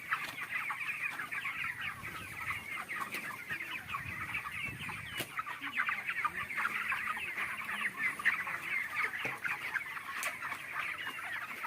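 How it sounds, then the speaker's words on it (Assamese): Broiler chickens with CRD respiratory disease on a 3000-bird farm: steady clucking and murmuring from many birds throughout, with scattered short, sharp coughing sounds rising out of the dense flock noise. "মুৰ্গীবিলাকে কাহি আছে"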